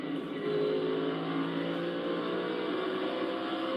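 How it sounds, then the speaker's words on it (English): A NASCAR Cup Series race car engine at Bristol, heard from the in-car camera as the driver works the throttle: a steady, loud, buzzing engine drone that rises and holds through traffic, with no voices. "I love to hear the in-car right there, being able to listen to him work the throttle"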